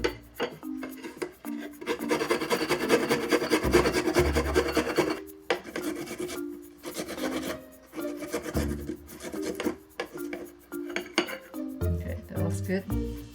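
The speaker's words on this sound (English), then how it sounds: "the next thing we'll do is mince up a piece of the ginger here" A knife mincing fresh ginger on a wooden cutting board makes steady scraping and chopping rubs with occasional clinks, while a person talks over the work in a kitchen.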